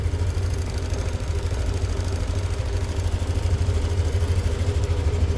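Engine running steadily at idle with a constant low rumble, loud and close, without a break or any voices.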